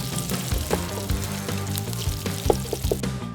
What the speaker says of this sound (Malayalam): നല്ല ചൊകാന്ന് വറുത്ത് വരണം.